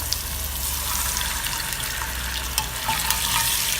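Water is poured into a hot pan of dhokla tempering with green chilies, raising a steady, loud, broad sizzle and bubbling hiss throughout with no speech.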